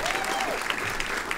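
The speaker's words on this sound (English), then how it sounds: "give him thunderous applause" Crowd at a broadcasters' hall of fame awards dinner applauds, dense steady clapping across the whole short stretch, with a faint voice briefly underneath.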